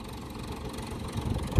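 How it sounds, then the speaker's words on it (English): A low, steady tractor engine idles nearby on a farm with a rumbling drone, swelling slightly louder near the end. "And then we'll move this tractor"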